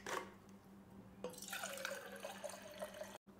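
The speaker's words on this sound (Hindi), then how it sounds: "इस सबसे पहले हम इसमें 200 ml वाटर डालेंगे।" Water being poured into a shaker for a protein shake, about 200 ml, a steady splashing pour that fills most of the short clip with a brief dropout near the end.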